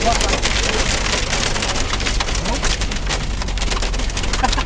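Loud, constant rain pours down in a thick hiss, close and unbroken for the whole stretch, in Saudi Arabia.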